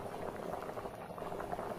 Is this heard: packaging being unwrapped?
no